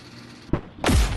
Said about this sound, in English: why do they have like a flashbang sound effect when you respawn?